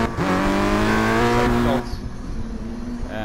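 Volkswagen Polo race cars lapping a track in a Falken Polo Cup test, a loud engine note rising in pitch as one accelerates close by, then cutting to a quieter, steadier rumble.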